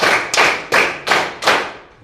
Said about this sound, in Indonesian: Tepuk 4. Tepuk 1. Tepuk 3. Tepuk 1. Tepuk 2. Tepuk 5.